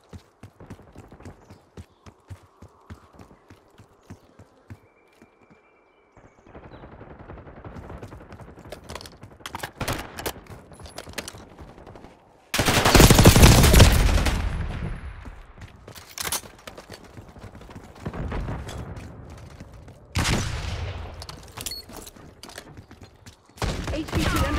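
Video game gunfire in Black Ops 6 during a match to protect an HVT, with sparse taps and clattering bursts that swell into a loud, sustained volley, then come again in heavy bursts.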